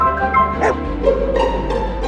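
A dog gives a few short, close barks and yips over a steady hum, loud and abrupt, with no talk.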